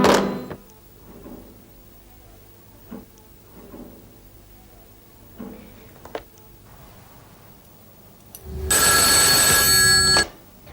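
A telephone bell rings once near the end, a loud, steady, bright ring lasting about two seconds, after a quiet stretch of faint knocks and shuffling in a room in a drama scene.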